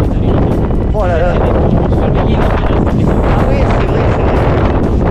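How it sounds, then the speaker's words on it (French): Strong wind on an outdoor plateau in Provence roars steadily and loudly across the microphone, buffeting it throughout while people talk in French. "par contre je m'en excuse, là il y a du vent"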